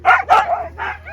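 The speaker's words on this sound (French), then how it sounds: "Les chiens sont tout excités." Excited sled dogs in Lapland bark in quick, loud, close yips and bow-wows, a short burst of several barks trailing into a whine.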